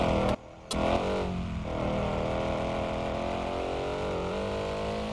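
A car engine in the Estate Agent Simulator video game revs on a test drive, loud and continuous, with a short cut in the sound early on and the pitch shifting as it accelerates and eases off.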